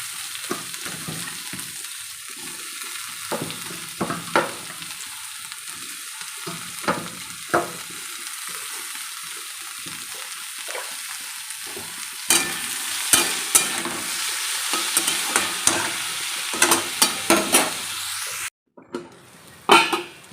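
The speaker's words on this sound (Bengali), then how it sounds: "ভাজাটা ভাজাটা হয়ে গেছে নামিয়ে দেবো এবার আর করলে পুড়ে যাবে" Food frying and sizzling in a pan on a home kitchen stove, heard as a steady close hiss broken by stirring scrapes and clinks of a utensil against the pan, louder in the second half.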